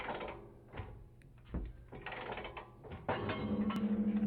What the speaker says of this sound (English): Then I'll grab a 24mm socket, and we're going to go ahead and separate this.